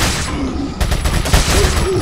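Gunfire in the Resident Evil 4 video game: a loud, dense burst of repeated shots that breaks out partway through over a constant game background, with no talk.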